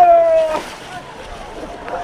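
Sea waves wash and slosh at Cox's Bazar beach, a close, churning surge that fades after a loud start, with a voice briefly heard at the beginning.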